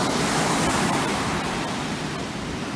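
Ocean waves wash onto a beach in a steady, loud broadband rush of surf that fades slightly toward the end.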